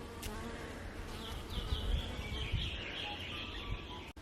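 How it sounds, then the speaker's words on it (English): Soft buzzing of bees around cosmos flowers in an autumn garden drones on and off, fairly faint, with occasional distant bird chirps and light background noise. "the bees are really enjoying them"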